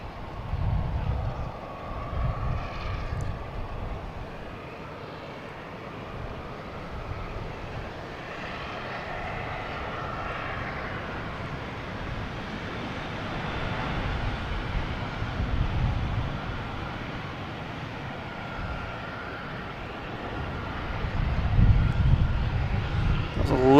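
Delta airliner taking off at Boston Logan Airport, a broad jet engine roar heard from a distance that swells and fades and builds again toward the end, with a voice talking at times over it.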